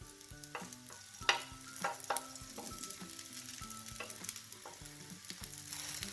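Sago thalipeeth cooking on a pan over raised heat with a little ghee poured around its edge, a quiet sizzle broken by clinks and scrapes of a spatula pressing and turning it, with faint tonal sounds beneath.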